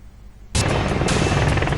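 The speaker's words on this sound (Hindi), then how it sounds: "हेलीकॉप्टर से हुंकार, फाइटर जेट भी तैयार।" After a brief quiet moment, a loud, dense rotor roar bursts in and holds steady as a military helicopter passes close overhead at night.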